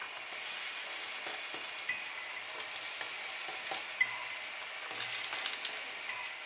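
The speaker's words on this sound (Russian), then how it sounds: "и обжариваем с другой стороны" Kefir pancakes with green onion fry on their second side in hot vegetable oil in a pan, giving a steady, even sizzle with a few faint pops and light clicks throughout.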